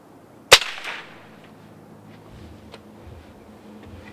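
A single sharp, loud crack of a break-barrel air pistol firing a Gamo Platinum pellet at near supersonic speed, followed by a brief fading ring and quiet room tone.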